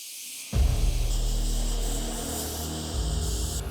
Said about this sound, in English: Gonna spray this epoxy sealer on there, let it sit, flash for 10 minutes